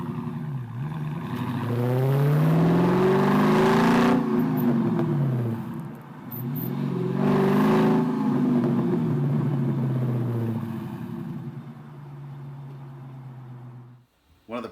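Dodge Scat Pack exhaust recorded close to the license plate, a loud deep rumble that swells through two long revving pulls before dropping to a steady idle and cutting off.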